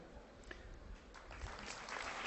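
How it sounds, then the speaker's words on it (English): Scattered hand clapping from a group that builds toward the end, moderately loud with a little background noise. "A round of applause for them."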